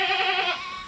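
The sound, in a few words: goat bleating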